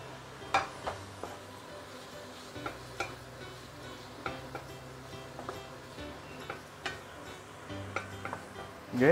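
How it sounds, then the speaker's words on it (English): Tofu and capsicum being stir-fried in a cast iron claypot, with a spatula scraping and clinking against the pot at irregular intervals over a low sizzle, close and fairly quiet, with no speech. "now we are going to stir fry them"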